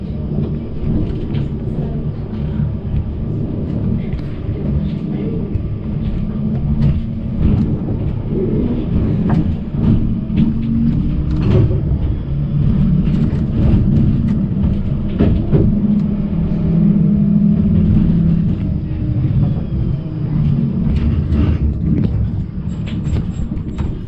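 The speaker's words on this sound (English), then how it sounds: "Then we can listen to the sound of our train starting again and crossing the" Pöstlingbergbahn tram in Linz pulling away and rolling over track crossings, a continuous loud low rumble with scattered clacks and squeals running throughout, no voices.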